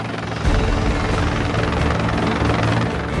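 A rescue helicopter hovering high above a California beach during a lifeguard rescue, its loud, steady rotor thump and engine roar continuous and close throughout.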